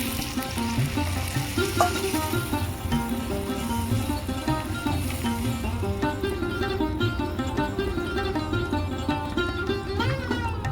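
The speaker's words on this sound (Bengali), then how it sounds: "এবার আমি সিদ্ধ করে রাখা মটরটা দিয়ে দেবো" Boiled peas tipped into a pan of fried spices for vegetarian ghugni, sizzling and frying steadily with stirring scrapes, a close, even hiss lasting the whole time.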